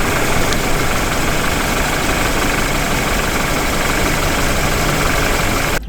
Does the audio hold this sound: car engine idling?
yes